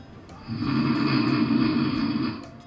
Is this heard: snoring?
yes